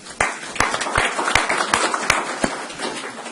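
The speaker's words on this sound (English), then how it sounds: "I think that deserves a round of applause" An audience at a San Bernardino city council meeting breaks into steady applause, a dense wash of clapping with sharper individual claps standing out throughout.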